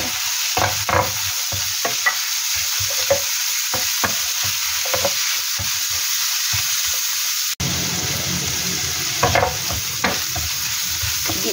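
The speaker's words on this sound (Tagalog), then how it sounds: "Ilagay na po natin ang ating gulay, carrots po muna" Meat and carrots being stir-fried for sotanghon noodles, with steady sizzling in the pan and repeated scraping, clanking stirs from a spatula, close and clear, a brief cut midway.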